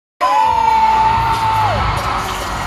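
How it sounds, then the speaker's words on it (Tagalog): Loud crowd at the Star Magic Games, a live entertainment sports event, erupting all at once in a roaring wall of shouting and cheering, with one piercing whoop rising above it before the noise settles into a steady din. "Ready na sumigaw o sa isang malakas na hiyawan"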